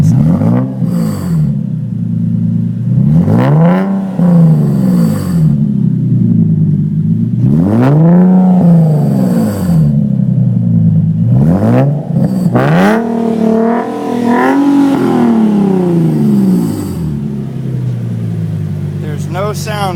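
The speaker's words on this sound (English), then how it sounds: "You've just got that rasp back there in the back." Close, loud exhaust from a 2013 Magma Red car fitted with FI resonated test pipes, revved repeatedly in rising and falling sweeps that carry a raspy edge, each blip settling back to a rumbling idle.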